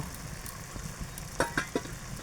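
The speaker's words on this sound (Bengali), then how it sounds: "এই যে চলে গেল আদা রসুন পেস্ট।" Ginger garlic paste sizzling in hot oil for a bottle gourd and red lentil curry, a loud constant hiss with a few sharp spatter pops close by, no talking.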